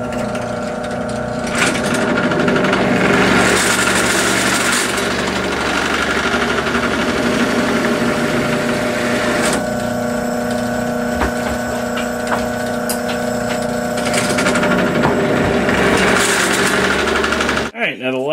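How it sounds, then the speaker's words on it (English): A power drill fitted with a half-inch bit whines steadily with a droning motor hum, running nearly continuously and cutting off abruptly near the end. "Next I'm going to switch to the 1/2 inch bit, and I'll drill all of those holes next."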